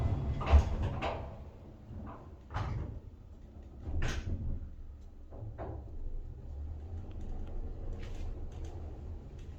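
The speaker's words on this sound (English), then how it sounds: "C floor. Doors opening." A lift's doors slide open with a few soft thumps and a rolling rumble, close by and fairly quiet, followed by low hum and faint clatter.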